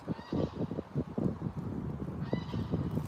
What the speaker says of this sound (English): And a goose patroller on the far side.